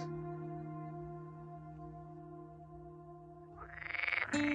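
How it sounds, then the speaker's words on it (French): Male edible green frogs (Pelophylax kl. esculentus) croak in a marsh, a steady sustained chorus of calls that swells louder and harsher near the end. "Écoutez ces bruyants coassements au cœur des marais. Ce sont des mâles chanteurs de grenouilles vertes comestibles"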